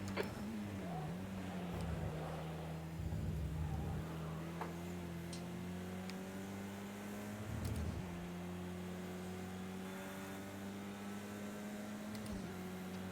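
A race car engine from the video game Project Cars 2, a steady droning hum holding mostly constant pitch with a few brief shifts, quiet and continuous throughout.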